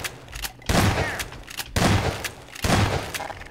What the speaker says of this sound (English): There's turrets here.